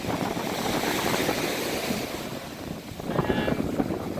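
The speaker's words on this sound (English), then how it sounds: "The waves are nice for surfing." Ocean waves on a Florida beach roll in under heavy wind buffeting the microphone, a loud, continuous wash of surf with a fresh swell building toward the end.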